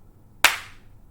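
One sharp hand clap cracks out alone after a moment of near silence, close and crisp, with a brief decaying tail.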